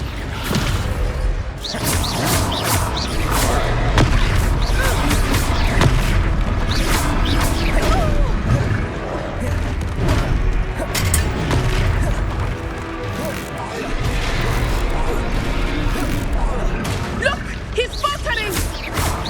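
The Descendo spell in Hogwarts Legacy slams a foe down amid a busy combat soundscape of heavy booms, crashes, whooshes and thuds, loud and continuous under background music and game voices.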